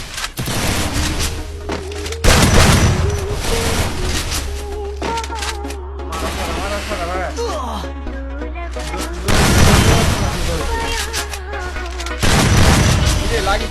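Gunfire in a video game: repeated booming shots and bursts come in loud clusters with short gaps between them, mixed with game effects and music, and a player talks over parts of it.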